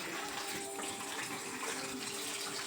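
Water pours steadily into a pot of potato curry, a continuous close gushing splash with no break and no talk.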